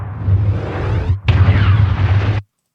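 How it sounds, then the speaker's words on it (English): Explosion effect from the film Army of the Dead, a loud rumbling blast that briefly dips then bursts again with a roaring, crackling tail before cutting off abruptly, with no voices. "that was in an explosion in the Army of the Dead movie"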